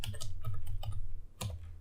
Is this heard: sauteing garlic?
no